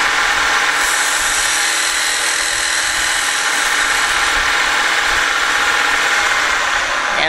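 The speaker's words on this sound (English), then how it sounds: "now I'm going to slice just about halfway down so that you can see the comparison" Spinning wood on a lathe is sliced by a skew chisel, giving a loud steady whirring hiss with a constant motor drone, close and uninterrupted.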